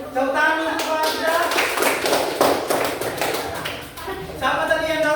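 A classroom of students claps their hands together, a steady burst of dense, close clapping lasting several seconds with a brief lull near the end.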